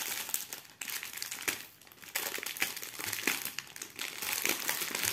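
Plastic pouch of diamond painting beads being handled and pulled open, loud close crinkling and rustling that comes in irregular bursts with brief quieter pauses, no talking.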